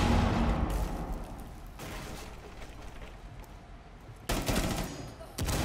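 Gunfire in the game Rainbow Six Siege arrives as several sharp, loud bursts spaced through the moment over a busy, rumbling background, with no clear talking over it.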